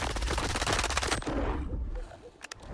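Grom S-14 rifle in the video game STALKER 2 firing a loud rapid burst of automatic shots, followed by a pause and a couple of single shots.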